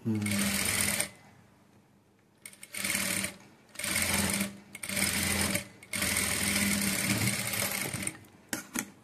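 A sewing machine stitches thread piping onto a net cloth blouse in several bursts of steady whirring, pausing briefly between runs, with someone talking during the stitching.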